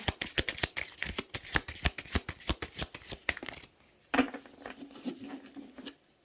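Tarot cards are shuffled by hand in quick, crisp riffling bursts of close papery flutter, followed by a quieter pause and a few softer card movements near the end.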